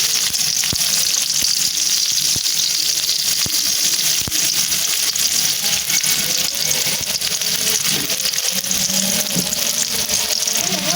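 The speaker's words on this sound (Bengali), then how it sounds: "পেঁয়াজ আর রসুন কুচিগুলারে আমি এখন ভালো করে একদম ভাজা নিব" Chopped onion and garlic fry in hot oil in a wok, giving a loud, steady sizzle that runs unbroken with faint stirring noises underneath.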